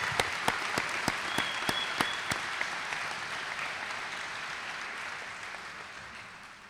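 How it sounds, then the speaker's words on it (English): An audience at a 2017 College of Lake County commencement ceremony applauds graduates' supporters with dense, sustained clapping, a few sharp individual claps standing out early before the ovation gradually thins and softens. "Let's give them a round of applause"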